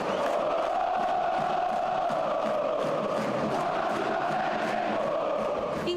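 São Paulo football fans chant their song for striker Calleri, a massed crowd voice sustaining a sung melody in a distant, reverberant roar, steady and unbroken throughout.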